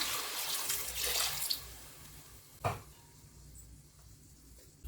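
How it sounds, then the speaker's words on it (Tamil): Water pours steadily into a pan of vegetables for a second or two, then a brief splash and clatter, followed by quiet bubbling, while cooking Tamil poricha kuzhambu. "இப்போ இந்த காய் முழுகிற அளவுக்கு தண்ணி ஆட் பண்ணிக்கிறேன்"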